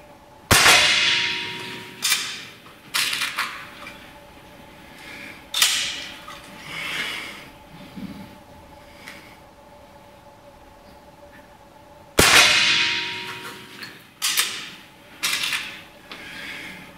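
Rifle shots fired from a standing position, heard as sharp, loud cracks spread across the clip, with a longer gap before the later ones. Each crack is followed by a brief ringing decay, and softer clicks and handling noises fall between the shots.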